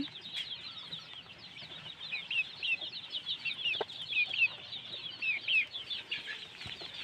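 Gray Hmong-breed chicks cheep steadily in high, thin peeps, with occasional soft clucks from a hen nearby, all quiet and outdoors.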